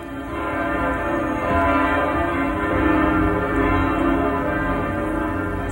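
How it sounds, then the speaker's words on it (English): Great church tower bells in St. Gallen, Switzerland, peal steadily and loudly in a dense, overlapping wash of ringing tones that sustains throughout without pause. "Here in St. Gallen, Switzerland, the great tower bells and organ call all those who hear to enter into communion with the living God."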